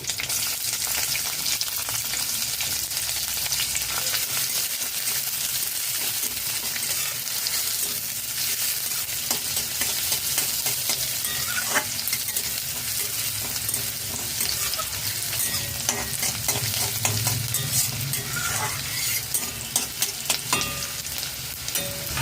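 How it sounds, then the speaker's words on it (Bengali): Chopped onion and green chili fry in a pan over low to medium flame, a continuous close sizzle with scraping and stirring clatter running throughout, and no talking. "লো টু মিডিয়াম ফ্লেমে দু মিনিট নাড়াচাড়া করে নিয়েছি"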